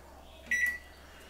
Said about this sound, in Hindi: अंदर इसको रख दिया एंड अभी यहाँ पे ऑन कर लेंगे माइक्रोवेव